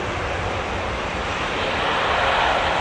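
A passenger aircraft on a positioning flight from Belfast at Manchester Airport, its engines a steady, broad roar from a distance that builds slightly toward the end, with some wind buffeting the microphone.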